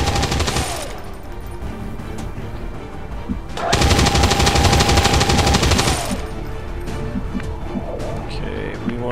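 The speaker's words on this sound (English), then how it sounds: "Let's go ahead and try out that suppressing fire." Suppressing fire in XCOM 2, heard as a loud sustained burst of rapid automatic gunfire lasting over two seconds, with shorter bursts of shooting and battle noise before and after.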